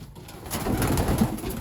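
Pigeons at a loft give soft, low cooing that murmurs steadily in the near background, with no voices over it.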